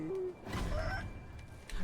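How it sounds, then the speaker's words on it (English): Roosters in a video game let out short squawks and crowing calls, moderately loud amid faint background noise. "Evil roosters, no!"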